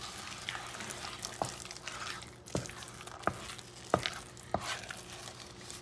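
A spoon stirs polenta in a pot on the stove, giving soft scraping and sloshing strokes with several sharp knocks against the pot side, all over a steady low sizzle.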